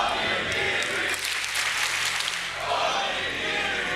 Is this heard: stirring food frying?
no